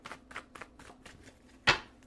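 A tarot card deck is shuffled by hand in a run of soft, quick riffling flutters, closing with one sharp, louder snap of the cards near the end.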